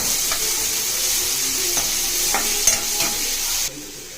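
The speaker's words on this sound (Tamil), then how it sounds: "இப்போ இதில் வெங்காயம் ஆட் பண்ணி நல்லா வதக்குங்க ஃப்ரெண்ட்ஸ்" Onions sizzle steadily in a pan over a medium flame, with a few clicks and scrapes from stirring. The frying noise stays close and continuous, then drops off abruptly near the end, with no talking.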